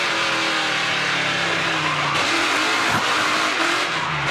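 A NASCAR Pinty's Series race car slides far sideways in a heavy hit at the Toronto street circuit. Tires squeal in a long, loud skid over a roaring engine, with no voices.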